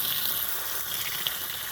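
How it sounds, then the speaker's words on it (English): Water pours from a can or hose onto soil in a garden grow bag, a soft continuous splashing gush held steady and close. "And water this in."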